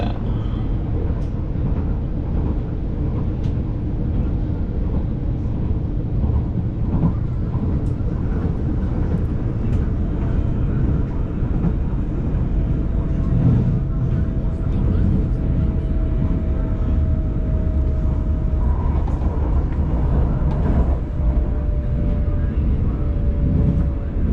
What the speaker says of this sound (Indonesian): Ada kereta api dari Sentral.